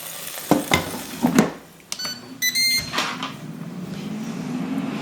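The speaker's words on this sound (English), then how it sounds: "now it does beep to let you know when it has 1 minute left" A Ninja air fryer cooking chicken gives a short series of electronic beeps with one minute left, set among handling clatter and a low fan hum.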